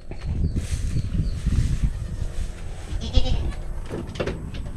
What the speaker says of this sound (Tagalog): Yung kambing natin dito.